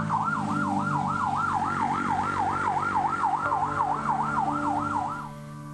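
An ambulance carrying a doctor's body to the Keputih Sukolilo public cemetery in Surabaya wails with a loud, close, rapidly rising and falling siren that repeats steadily, then begins to fade at the very end.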